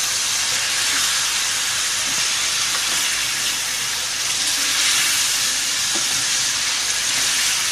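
Ginger garlic paste frying in a karahi for chicken chugtai karahi, a steady, fairly loud broadband hiss and sizzle that continues without a break and with no voices.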